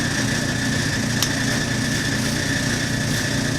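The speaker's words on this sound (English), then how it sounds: "The washer and dryer are running." Constant mechanical hum and rumble of a washer and dryer running nearby, steady and unbroken, with no voices.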